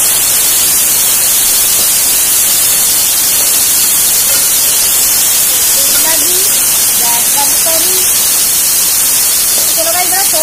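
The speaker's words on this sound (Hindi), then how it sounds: "गैस तेज करके फटाफट फ्राई कर देती हूँ मैं" Onions fry hard in a pan over a high gas flame, giving a loud, unbroken wash of sizzling hiss that fills the whole stretch, with faint stirring underneath.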